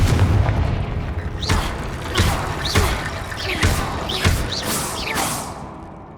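Confringo spell explosions in Hogwarts Legacy, a series of about six booming blasts with whooshing trails at a steady rhythm over a low rumbling background.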